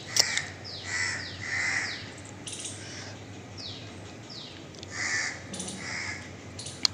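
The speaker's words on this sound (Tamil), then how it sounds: "வேப்ப மரத்துக்கிட்ட உட்காந்துருக்கு காக்கா." Crows perched in a neem tree give repeated harsh caws, several loud nearby calls in bursts with short pauses, over a steady background hum.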